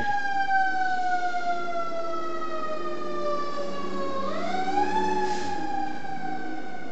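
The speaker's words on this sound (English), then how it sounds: "there's another fire truck" A fire truck siren wails steadily and fairly close, its pitch gliding slowly down and then sweeping back up.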